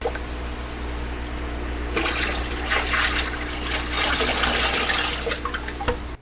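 Water and wild guppies pour from a bucket into a 25-gallon grow-out tub, a steady close splashing and trickling that swells after a couple of seconds and runs on without speech.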